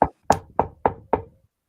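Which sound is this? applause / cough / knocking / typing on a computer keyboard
knocking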